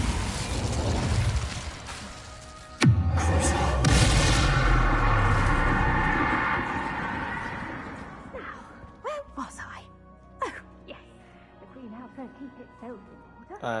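Incendio fire spell bursts in Hogwarts Legacy: a sharp booming blast of flame erupts and roars for several seconds, then fades into scattered short crackles and game sounds, with a voice speaking near the end.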